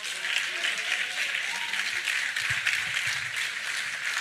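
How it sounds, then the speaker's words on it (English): Applause from a seated audience at a policy talk on Nigerian small-business taxes, a steady dense clapping that fills the whole stretch at moderate loudness without a break. "A round of applause for Mr. Wilson Erumebor"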